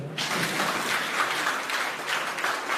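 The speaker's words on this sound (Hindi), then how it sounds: "चलिए तालियां हो जाओ" Steady audience applause at a public address in Mandi, Himachal Pradesh, a crowd clapping evenly for nearly three seconds at moderate volume, starting abruptly and carrying on without speech.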